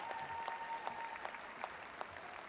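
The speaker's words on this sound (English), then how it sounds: "applauds his team, Brooke MacIntosh and Benjamin Mimar." Audience applause in an arena during a pairs short program at a figure skating Grand Prix in Espoo, a steady moderate clapping wash with a few sharper claps standing out roughly every half second, plus a faint sustained tone underneath.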